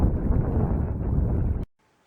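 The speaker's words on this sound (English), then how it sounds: "Getting a little windy though." Loud, buffeting wind roars against the microphone for a couple of seconds on East Bearskin Lake in Minnesota's Boundary Waters, then cuts off abruptly into near silence.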